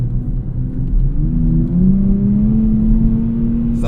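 A 2024 Nissan Z Nismo engine rises in pitch as revs climb on a downshift, a loud close droning growl that settles into a steady higher tone, with no talking.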